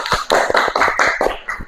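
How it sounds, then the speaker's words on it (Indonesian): A classroom group gives a short round of rhythmic hand claps for Sasa's group, about six quick loud beats close by. "kasih tepuk untuk kelompoknya Sasa"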